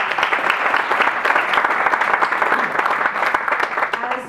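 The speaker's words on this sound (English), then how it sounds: "could we get a round of applause for all the amazing things happening?" An audience at an Immigration Heritage Awards ceremony in Queens, New York, applauds in a dense, sustained burst of many hands clapping, loud and even throughout, with no talk over it.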